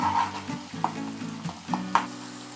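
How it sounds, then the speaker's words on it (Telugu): Onion paste with ginger garlic paste frying in a pan for a Telugu pulusu, with a steady sizzle and several soft scrapes of a spoon stirring it, fairly close and with no voices. "ఈ ఆనియన్ పేస్ట్ మొత్తం వేగాక ఇందులో మనం కొద్దిగా అల్లం వెల్లుల్లి పేస్ట్ని కూడా యాడ్ చేసుకుందాం."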